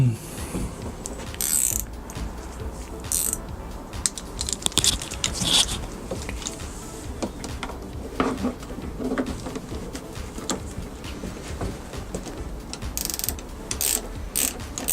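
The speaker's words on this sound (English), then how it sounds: "Like I said, these ratchet spanners are really good." A ratchet spanner tightens a nut on a cheap aftermarket shorty brake lever fitted to a Suzuki GSX600F Katana motorcycle, giving steady clicking and mechanical rattling at close range for a long stretch, with faint outdoor background and no speech.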